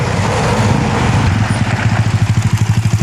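A Yamaha Mio scooter with a 59/3 engine runs loud and close, its low buzzing exhaust pulsing, then settling into a steady rhythmic putter as it passes by.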